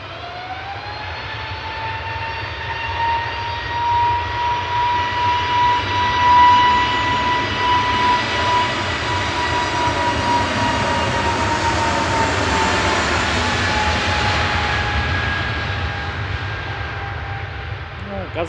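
An easyJet Airbus A320neo departs Manchester Airport, its jet engines roaring loud and steady with a rising whine that swells and slowly fades as it climbs away.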